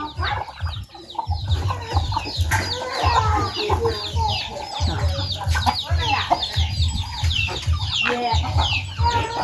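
Chickens cluck and chatter nearby in a busy, irregular stream of calls over several seconds, with low rumbling and scattered louder squawks throughout.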